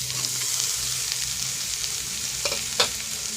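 Chopped carrots and capsicum being stir-fried in a pan, a steady close sizzle with scraping stirs and a couple of sharper clinks near the end, no talking.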